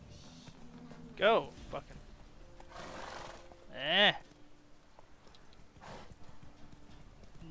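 A horse in The Witcher 3: Wild Hunt, with the rhythmic thud of hooves running and two sharp whinnies standing out above them, while someone talks briefly over the game sounds.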